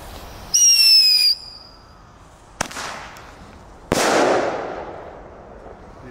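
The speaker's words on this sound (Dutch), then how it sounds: "Eerst een geel, dan een knal." A Thunderking firecracker lets out a loud shrill rising whistle of under a second, followed by a sharp crack and then a heavier booming bang with a lingering echo, heard outdoors.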